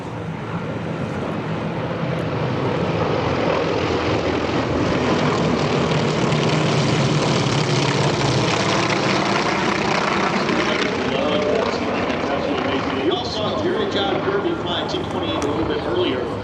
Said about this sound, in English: Here come the T-28 Trojans.